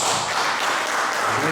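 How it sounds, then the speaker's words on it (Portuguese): Church congregation applauding at a Portuguese-language service, a dense, steady wash of many hands clapping together for a short stretch, with voices mixed in. "Vamos dar uma salva de palmas ao Senhor, em nome de Jesus"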